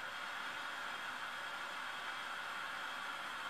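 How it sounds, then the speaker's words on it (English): A gas torch flame roars steadily at close range while heating a glass bottle neck for an oil lamp insert, a constant hissing rush with no other sounds. "So just let the flame do the work for you."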